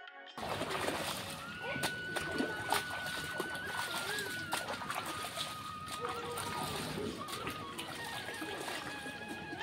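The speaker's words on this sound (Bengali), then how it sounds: "আর এই তো কাপড়টা পায়ের এখানে রেখে তারপর এভাবে ধুয়ে নিলাম" Cloth is rinsed in a swift river current after being scrubbed, producing irregular splashes and sloshing over a rushing water backdrop, with a voice talking nearby and faint birdsong.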